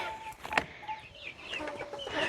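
Chickens on a small countryside farm cluck in short, scattered calls amid other birds chirping, moderately close with no talk over them.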